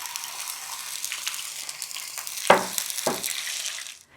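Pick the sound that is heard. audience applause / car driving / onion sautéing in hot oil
onion sautéing in hot oil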